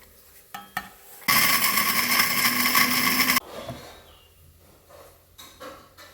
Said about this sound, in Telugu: ఇప్పుడు ఈ కుడక గసగసాలు రెండు మిక్స్ పట్టుకోవాలి